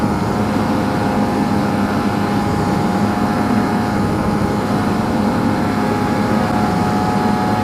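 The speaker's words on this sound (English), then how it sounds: "you can hear the engines singing, that pipe singing" Lambretta scooter engine fitted with a BGM PRO MZ30 exhaust, revving around 6,000 rpm while riding, a steady loud droning whine from the pipe that holds continuously without a break.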